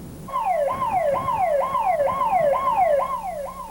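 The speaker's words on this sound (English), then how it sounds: "Weather warnings and sirens sent people scurrying for safety" A tornado warning siren in Cincinnati sweeps up and down in a steady repeating cycle, loud and continuous with no voices.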